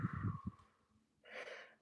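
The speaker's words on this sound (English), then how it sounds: "take a nice deep inhale" Audible breathing during a plank in a plus-size stretching workout: a few soft breathy puffs, a quiet pause, then one longer, airy deep inhale, close and faint.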